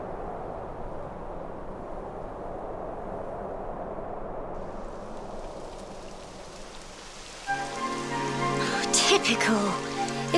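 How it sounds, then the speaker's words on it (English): Rain falls in the video game Dragon Quest XI as a steady, soft hiss of drops, fading slightly before brighter game sounds and tones swell in over it. "It would have to go and start raining, wouldn't it?"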